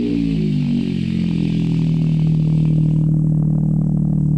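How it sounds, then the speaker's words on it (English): A diesel Alfa Romeo project car with a refined exhaust fires up from cold, settling into a loud, close, steady idle drone with a rough low burble and some clatter, cutting off abruptly at the end. "Now it's time for the Alpha's cold start and the chopped 2 cylinders from the Ferrari."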